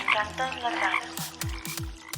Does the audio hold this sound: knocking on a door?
no